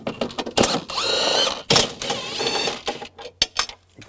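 A ratchet with a 13mm socket works nuts loose on a 2000-2006 BMW X5, giving close, loud bursts of rapid clicking in several runs separated by short pauses and small knocks.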